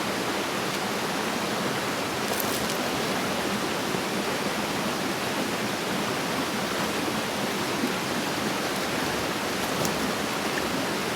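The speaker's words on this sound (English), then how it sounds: "But at a flowing water source, just open the bag and scoop the water." Water flows steadily at an outdoor stream, a dense, even rushing hiss that stays close and constant for the whole stretch, with no voices.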